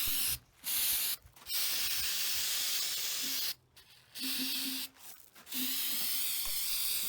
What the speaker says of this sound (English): let's go outside and let's do some spraying with this